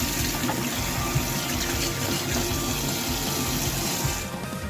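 Boiled eggs are swirled in water to crack their shells before peeling, a steady watery sloshing and rushing throughout with faint knocks, close and fairly loud, then quieting at the end.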